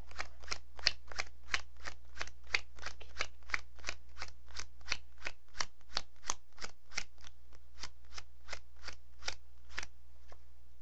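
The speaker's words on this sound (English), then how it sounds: "Tell them to count 32 cards in this one." Playing cards dealt and counted out one at a time during a card trick: about thirty crisp, evenly spaced snaps in a quick steady rhythm, close and alone.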